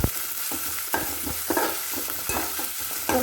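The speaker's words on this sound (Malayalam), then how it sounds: "നമ്മളൊരു ചട്ടിക്കകത്തേക്ക് കടുക് പൊട്ടിച്ച് കുറച്ച് സവാള ഇട്ട് വഴറ്റി" Onion is stirred in a pan of spluttered mustard seeds for breadfruit roast, with a soft frying sizzle under sharp scraping knocks of the spoon against the pan every half second or so.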